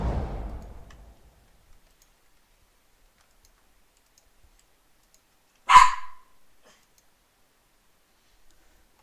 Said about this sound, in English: For such a small dog, you make a lot of noise.